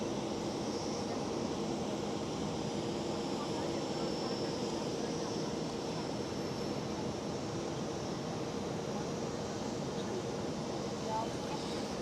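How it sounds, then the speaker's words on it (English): An Iberia Airbus A320neo at Amsterdam Schiphol airport produces a steady, distant jet roar that holds evenly for the whole stretch without breaks. "And I can tell you they are very, very nice aircraft to fly. Iberia A320neo."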